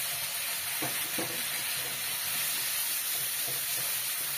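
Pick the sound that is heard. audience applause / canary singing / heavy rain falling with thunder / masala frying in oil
masala frying in oil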